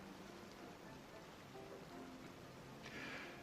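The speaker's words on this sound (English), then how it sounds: "Starting to rain." Light rain beginning to fall at night patters as a faint, steady hiss with soft scattered drops, quiet and continuous with a slight swell near the end.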